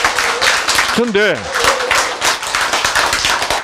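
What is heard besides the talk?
audience clapping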